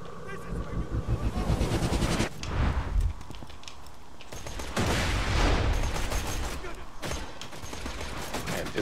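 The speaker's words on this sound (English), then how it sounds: "Somebody's shooting at me over there" Bursts of gunfire in the video game Borderlands 2, rapid volleys of shots and a choppy firefight that start and stop across the clip, with someone talking over the action.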